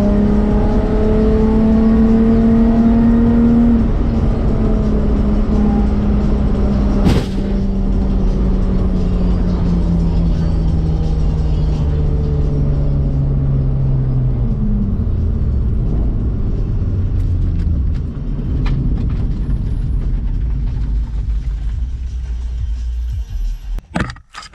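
BMW E36 heard from inside the cabin on a track run. The engine drones loud and steady, and its pitch rises and falls through several gear changes over about 25 seconds. A brief sharp knock comes near the middle, and the recording cuts off abruptly at the end.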